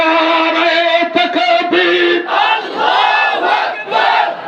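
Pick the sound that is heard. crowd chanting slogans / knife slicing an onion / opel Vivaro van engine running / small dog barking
crowd chanting slogans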